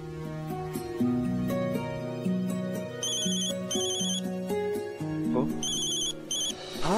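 A telephone ringtone plays a repeating melodic pattern of electronic tones, loud and continuous, with bright high chimes joining partway through.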